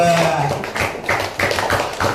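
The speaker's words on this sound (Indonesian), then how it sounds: "Tepuk tangan buat kelompok 2" A handful of sharp claps ring out in a classroom to applaud a student group finishing its turn. They come as a short, uneven run of close, crisp hits right after a brief spoken phrase.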